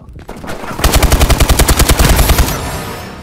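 Rapid automatic gunfire in Call of Duty: Advanced Warfare, a loud sustained burst of evenly spaced shots lasting about two seconds, preceded by a softer shot and trailing into echoing tail.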